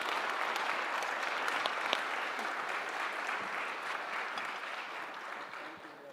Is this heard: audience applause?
yes